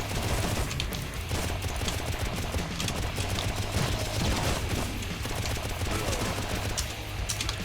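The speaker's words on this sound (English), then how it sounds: "So I'll just stick with the shuriken gun for now." Rapid, continuous firing of the shuriken gun in the video game Painkiller: Hell & Damnation, a steady loud stream of shots throughout with little pause.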